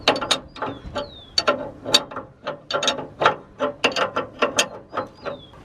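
Ratchet wrench tightening the loose fan belt on a VW Kombi engine, a fast run of sharp metallic clicks in repeated bursts, close and fairly loud, with no talking.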